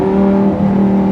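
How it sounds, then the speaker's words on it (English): An engine revs on an 8Y Audi RS3 or Lamborghini Gallardo, a steady, loud, close droning growl that holds evenly with a slight waver, with no talk. "given these sounds, there's so much sound this car produces"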